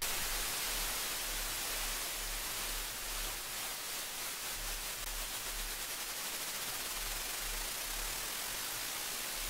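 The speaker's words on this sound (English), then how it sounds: "Another effect that I did, I got a pink noise sample." Steady, hissing pink noise plays alone at a low, even level throughout, with no other sounds.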